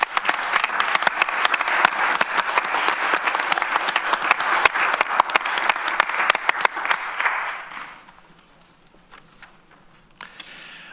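A legislature meeting audience claps for a proclamation: dense, steady applause from many hands for about eight seconds, then it tapers off into a quiet room with a few scattered noises.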